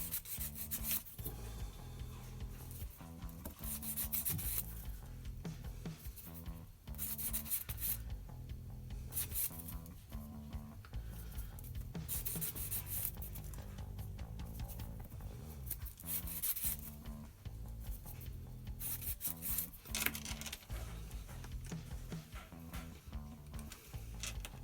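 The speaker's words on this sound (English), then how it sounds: "I know this isn't very interesting to watch me sanding." Steady rasping and rubbing of sandpaper against a model tank part, likely an E-50 Jagdtiger track or sprocket piece, continuous and close with short pauses between strokes, no voices.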